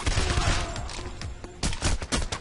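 Rapid bursts of gunfire in PAYDAY from a maxed Technician loadout being fired at special enemies, dense and loud with sharp repeated shots through the whole stretch.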